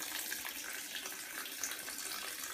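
Water runs steadily from a tap while clothes are rinsed, a continuous close hiss of flowing water with faint splashing.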